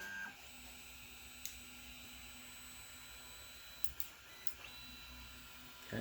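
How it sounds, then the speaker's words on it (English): A Creality Ender 3 Pro 3D printer auto-homes with its bed moving, giving a low, steady stepper-motor hum with a few faint clicks and beeps, quiet and without voices. "Good, the bed is moving back."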